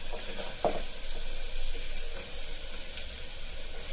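Washed bottle gourd pieces dropped into frying prawns in a Telugu-style pan dish, a moderate sizzle with a brief splash of wet pieces hitting the oil, then steady hissing.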